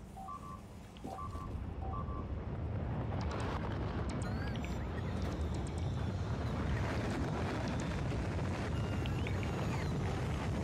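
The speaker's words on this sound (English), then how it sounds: "Fire rocket engine." A rocket engine fires for a launch in the video game Factorio. A few short electronic beeps come first, then a loud, sustained roaring rumble sets in and holds steady to the end.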